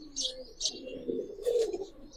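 Giribaz silver pigeons coo softly nearby, low throaty murmurs mixed with a few sharp chirps over about two seconds.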